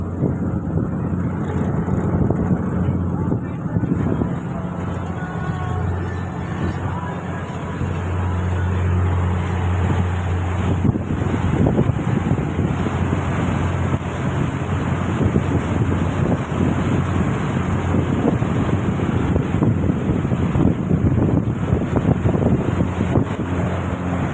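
Boat heading home over open water, a steady droning engine hum mixed with continuous wind buffeting the microphone and water rushing past the hull, loud and unbroken throughout with no talk.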